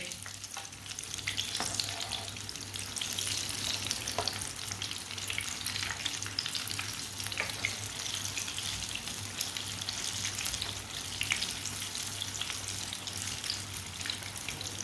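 A breakfast flatbread fries in oil in a pan on the stove, giving a steady, dense sizzle with occasional crackles and pops, close and continuous with no talking.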